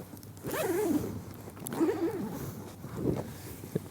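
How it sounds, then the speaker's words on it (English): Zippers on a camera backpack are pulled open in three quick, rasping strokes at close range, with short pauses between them and faint handling noise. "Let's see, here's the zippers."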